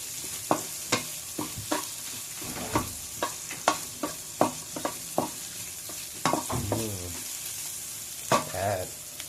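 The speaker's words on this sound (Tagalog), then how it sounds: "Antayin lang natin na maluto yung sibuyas bago natin lagyan ng Spanish paprika." Onions frying in a pan for a Filipino ginataan dish, a soft continuous sizzle punctuated by regular clacks and scrapes of a spatula stirring, quiet and close with no talk.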